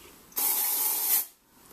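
Hairspray comes out of an aerosol can onto parted hair in one short, steady hiss that lasts under a second, close and fairly loud.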